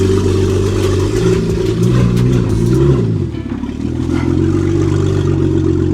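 A BMW E60 with an N54 engine and its check engine light on hums steadily with low rumbling tones while driving, briefly rising in pitch as it revs, then settling into a steady drone.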